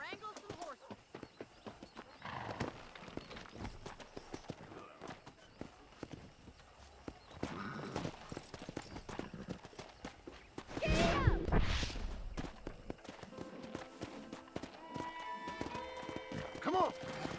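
Hooves clip-clop steadily on the ground while a horse gives a loud whinny partway through, amid other outdoor sounds, in Red Dead Redemption.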